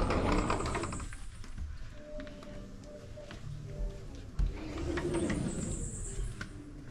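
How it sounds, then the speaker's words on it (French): Birds calling and cooing in a lush, jungle-style garden in Rincón, Puerto Rico, soft chirps and a repeated dove-like coo over faint ambient noise, with occasional light taps nearby. "on entend des oiseaux, des criquets"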